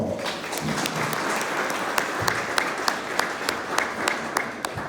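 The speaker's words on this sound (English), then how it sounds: "Please give her a round of applause." Applause from an audience at a university event, a dense patter with distinct sharp claps punctuating it, fairly close and sustained.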